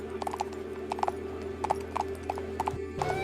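Horse hooves clip-clop at a steady walking pace, a king's horse being ridden, with crisp paired hoofbeats over a constant low hum and a faint whinny-like tone near the end.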